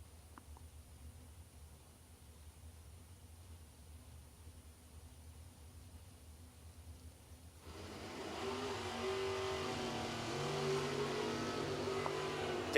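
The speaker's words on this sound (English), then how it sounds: "Danny Hoff now in the Tesla, left lane, 772 the dial." Two drag cars, a Tesla in the left lane and a Roadster in the right, launch and accelerate down the strip; a quiet crowd murmur holds for several seconds before a loud, steady surge of motor noise rises sharply and stays strong to the end.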